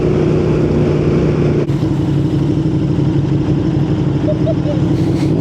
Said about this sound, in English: the quick shifter noise, it'll never get boring